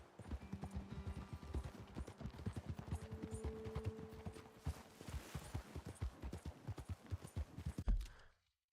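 Horses' hooves clip-clop in a steady walking rhythm on a trail in the video game Red Dead Redemption 2, a run of close, distinct hoofbeats that stops abruptly at the end with no talk.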